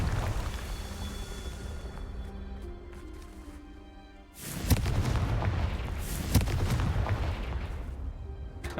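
Confringo fire spell blast in the video game Hogwarts Legacy: a loud booming explosion cuts through dense game noise and music, followed by a sustained rumbling wash with sharp cracks.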